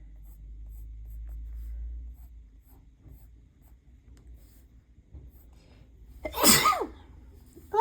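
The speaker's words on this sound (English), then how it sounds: "I can't stop sneezing." A single loud, sharp sneeze bursts out near the end after a quiet stretch with faint low rumbling and scratching.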